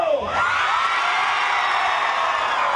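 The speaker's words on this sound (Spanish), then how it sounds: "¡Un grito para Keiko!" A large crowd at a political rally for Keiko Fujimori in Pucallpa, Peru, roars with sustained shouting and cheering, loud and continuous for several seconds after a brief opening yell.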